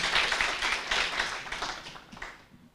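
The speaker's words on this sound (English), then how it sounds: "So if we could give them a nice warm round of applause again." An audience at an academic lecture on the 2022 Russian invasion of Ukraine claps in a warm round of applause, a dense patter of many hands that is moderately loud, then gradually thins and fades out.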